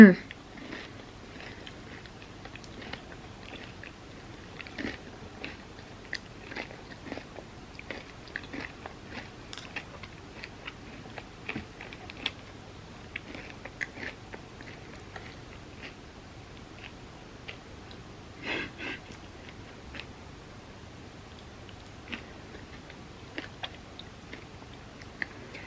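Close, faint chewing and biting on a homemade vegan protein nougat made with added protein powder, with soft irregular sticky crunches and mouth clicks scattered over a quiet background across the length.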